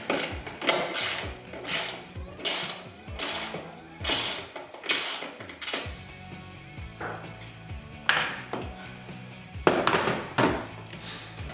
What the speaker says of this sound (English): to move the tank out of the way, you take off these two 10mm bolts